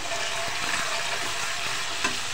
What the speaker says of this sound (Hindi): लहसुन अदरक फ्राई किया।